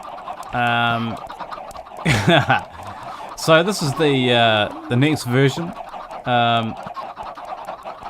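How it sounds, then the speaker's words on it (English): Minecraft chickens cluck in short, bright bursts from a crowded chicken farm inside the game, mixed with game sounds while someone talks over them. "There's a fair amount of chickens in there."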